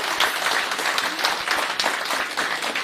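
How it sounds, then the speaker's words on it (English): An audience at a DeKalb County public safety awards celebration applauds as news anchors leave: dense, sustained clapping from many people filling the room, loud and even throughout with no voices on top. "Let's give them a round of applause as they leave us."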